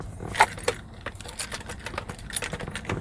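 Keys jangle as a key is fitted into the ignition of a Mazda Miata MX-5 with a rough idle. The metallic clinks come close and irregular, with a sharper rattle near the start, and no one speaks.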